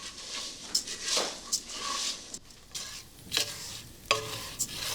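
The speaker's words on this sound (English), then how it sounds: "the sound and the feel as the rice toasts and cooks a little bit more will get heavier" Soft sizzling of rice toasting in a pan with occasional scraping stirs, a quiet crackle close by and no voices.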